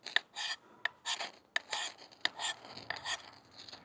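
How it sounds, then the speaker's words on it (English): A kukri machete blade scrapes paint off a ferrocerium rod in a series of short, rough rasping strokes, about six quick passes with brief sharp clicks between them, close and fairly quiet with no talking. "I'm going to scrape it over here just to get rid of some of the paint."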